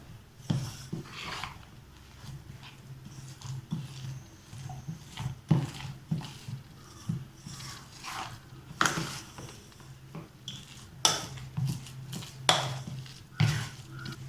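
Grated coconut is stirred into rava paniyaram batter with a spoon in a bowl, producing soft, irregular scraping and light clinks of utensil on the vessel, close and quiet, with no speech.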